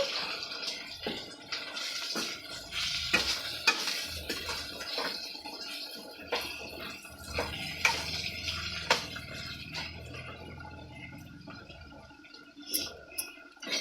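Eggplant curry ingredients get stirred and mixed in a pan, producing scattered scraping and clinking spoon strokes with wet, irregular rustling at close range and no speech.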